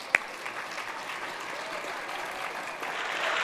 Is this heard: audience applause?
yes